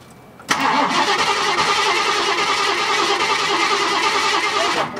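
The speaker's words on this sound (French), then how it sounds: "Alors au moment d'allumer le moteur V8, Guillaume a peur d'une mauvaise surprise." The V8 engine of a classic American car, imported by cargo container after two months in storage, cranks and catches after a short quiet moment, then settles into a loud, rough, steady idle close by.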